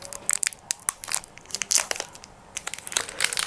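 A candy wrapper with a silver inner pack is torn open and crinkled by hand, giving sharp irregular crackles and rustles, close and alone.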